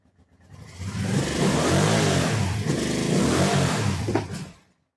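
A 40-year-old motorcycle engine starts without choke and runs loud and close for about four seconds, its revs swelling and dipping unevenly before it cuts out abruptly.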